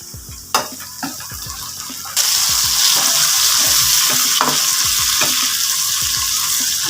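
Onions sizzle steadily in a hot pan on medium heat for pumpkin curry, a loud continuous frying hiss with scraping stirs and clinks of the spoon and no talk.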